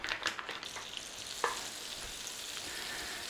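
Butter melts in a pan at the start of an old British curry sauce, a faint, close, even sizzle with a few light scrapes early on and no speech.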